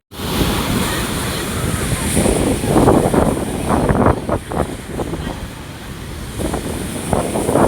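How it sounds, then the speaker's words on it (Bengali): Ocean waves breaking on the beach at Digha, loud rolling surf with repeated crashing surges over a constant wind-buffeted roar, close to the shoreline. "সাংঘাতিক ঢেউ।"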